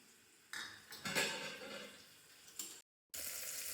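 Tomatoes and chillies sizzle and crackle as they roast in a hot pan, with a few scraping clinks from the pan. A brief total silence breaks the sound near the end.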